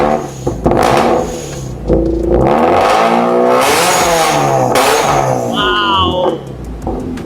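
A Toyota GT86 fitted with a new aftermarket exhaust revs hard up close, its loud engine note rising and falling through several throttle blips with a deep, rounded exhaust growl.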